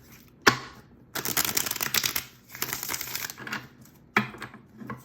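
A tarot deck is shuffled by hand in a few quick riffling bursts of card flutter and snaps, separated by brief pauses, close and fairly quiet.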